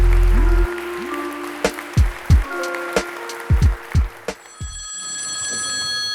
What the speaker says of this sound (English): Will someone get that phone?